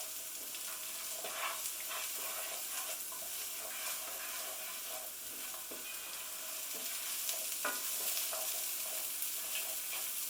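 Food fries gently in a pan over slightly raised heat: a continuous soft sizzle with scattered crackles and occasional stirring scrapes, fairly quiet and close, with no voices.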